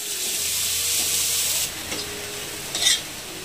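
Dried bombil fish frying on a hot griddle, a steady close sizzle that fades after a couple of seconds, followed by a brief sharper crackle near the end.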